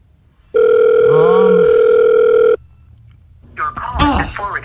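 A telephone call tone sounds loud and close, one long steady electronic tone lasting about two seconds, then a short pause before an automated voice message begins.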